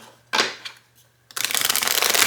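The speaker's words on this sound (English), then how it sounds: "Let me try to half these just because I want to get a good shuffle." A new deck of divination tarot cards is split in half and shuffled by hand: a couple of soft papery slides, then a longer burst of dense, close flicking and rustling.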